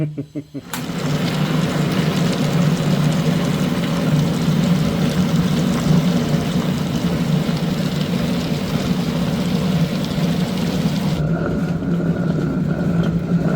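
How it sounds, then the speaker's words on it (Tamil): An electric wet grinder churns green gram batter in a kitchen, a loud, steady rumbling drone throughout that cuts back to a quieter hum near the end. "பாசி பயிர் மாவை செமையாக அரைச்சிட்டு இருக்கா நல்லா அரைச்சிட்டு இருக்கு"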